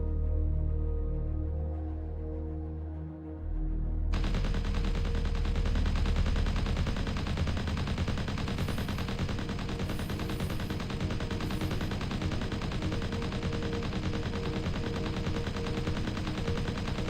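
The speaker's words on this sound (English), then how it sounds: "I think they're shooting each other." Automatic gunfire in Empyrion Galactic Survival, a sustained loud rattle of shots that begins abruptly after a few seconds of low ambient hum and keeps running without a break, with no talk.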